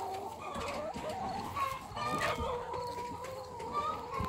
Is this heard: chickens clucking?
yes